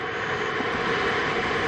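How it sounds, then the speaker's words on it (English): SpaceX Crew Dragon SuperDraco thrusters fire during a pad abort test, producing a loud, continuous broadband roar that holds steady and unbroken throughout, with no voices over it. "The Super Dracos have ignited and are pushing the Crew Dragon off the pad."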